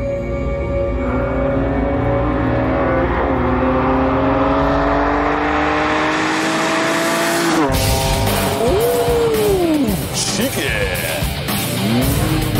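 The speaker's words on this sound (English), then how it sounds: "It's called the Wiesmann MF3, and under the pretty skin, you have the engine, sequential gearbox, and running gear from a BMW M3." Wiesmann MF3 roadster powered by a BMW M3 engine with a sequential gearbox, revving loudly and climbing through gears near the listener, sharp shifts and rising engine whine, a voice speaking over it.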